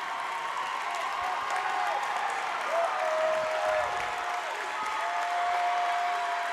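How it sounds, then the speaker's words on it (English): Fans of both schools cheer and clap through a girls' Division 1 state final volleyball match between Franklin and Newton North, a steady, dense roar filling the gym, with whistles and voices rising above the crowd noise. "Both sets of fans here cheering on their teams."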